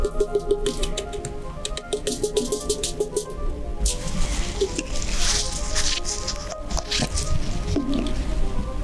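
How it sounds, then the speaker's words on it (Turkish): Potassium permanganate crystals are poured onto aluminium foil, giving a continuous close granular pattering and crinkling, dense and fairly loud throughout. "Potasyum permanganatımızı alüminyum folyomuzun üzerine döküyoruz."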